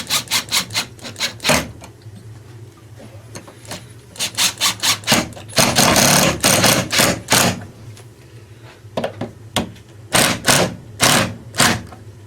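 A battery-powered drill driving screws into wood strips, in repeated loud rattling bursts of varying length separated by short pauses, close by.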